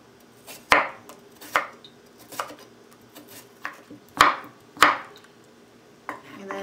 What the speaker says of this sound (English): Cut slices.